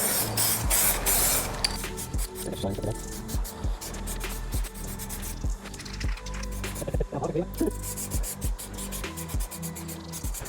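Hissing spray paint applied to a primed Range Rover Sport alloy wheel during restoration, steady close hiss with short bursts and a faint rattling, with some background noise.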